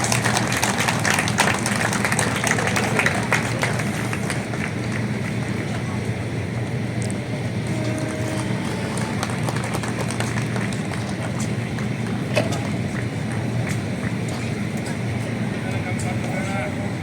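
An audience at the Jashn-e-Chandni Chowk event applauds to welcome the musicians, a sustained wash of dense clapping that runs the whole time with voices mixed in.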